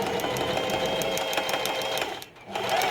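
Sewing machine running steadily while stitching a feather fringe, a close, continuous whirring hum with a rapid needle rhythm that dips briefly near the end before resuming.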